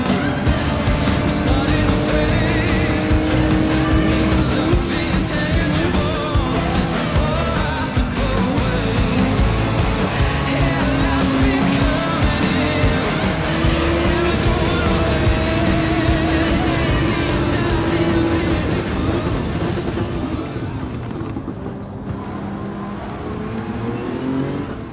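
Race cars in the Gran Turismo 7 video game drive in sport mode, producing continuous loud engine whine and revving with shifting pitch that lasts the whole stretch and eases off near the end.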